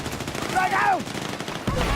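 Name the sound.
gunfire in a first-person shooter video game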